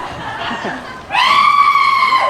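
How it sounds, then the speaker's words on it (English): A woman screams at a special effects show at Universal Studios Hollywood, a loud, sharp, sustained shriek bursting in after a softer stretch of crowd laughter and murmuring. "Let's all hear how you would scream!"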